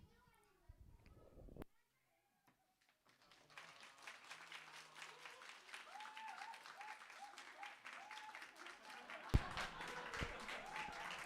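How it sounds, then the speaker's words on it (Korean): Congregation applause in a church after a Sunday sermon, a dense sustained patter of many hands clapping close to the room microphone, beginning after a brief quiet and continuing steadily, with a few louder claps near the end. "원래 이렇게 설교하고 박수 칩니까?"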